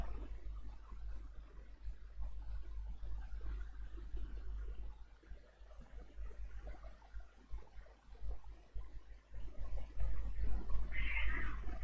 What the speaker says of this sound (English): It's one of my cats screaming outside for food, probably fighting with each other.